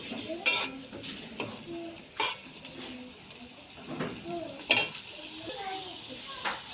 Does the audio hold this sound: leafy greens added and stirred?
yes